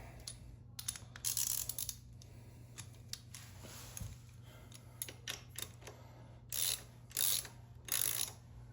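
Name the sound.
removing extension from ratchet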